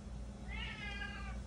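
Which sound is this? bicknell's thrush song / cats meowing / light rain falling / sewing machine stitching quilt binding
cats meowing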